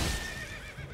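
A horse in the Elden Ring video game gives a loud, close whinny lasting about a second, with faint hoofbeats underneath.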